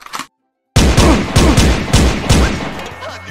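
Rapid bursts of video game gunfire in a GTA-style SpongeBob game, loud and close, ring out in repeated rattling volleys after a short silence, with a brief voice at the very start.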